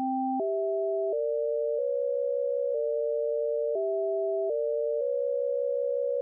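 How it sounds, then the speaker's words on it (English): A Korg Opsix FM synthesizer plays steady pure electronic tones in stepped pairs of pitches, amplitude-modulated so it resembles a telephone dial tone, each held note changing in sharp sequence with no talking. "the reason that sounds like a dial tone is the amplitude modulation is making you think you can hear two tones playing simultaneously"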